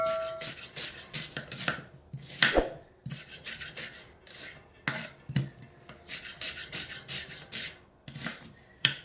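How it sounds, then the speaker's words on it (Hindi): Quick, irregular knife strokes chopping a large onion on a board, crisp close cuts in bursts with short pauses between them. "एक बड़े साइज का प्याज है, इसको काट लेते हैं हम।"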